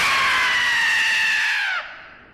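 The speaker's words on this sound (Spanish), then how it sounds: "un grito agudo perforó la noche" A sharp, high-pitched scream in a horror story, loud and sustained for nearly two seconds with a slight downward slide before cutting off abruptly, heard alone with no talking.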